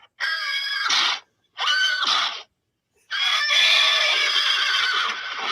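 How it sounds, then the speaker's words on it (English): Horse neighing played back in a haunted theatre, three loud whinnying bursts separated by short silences, the last one long and shrill, with no talk. "Who did the horse sound?"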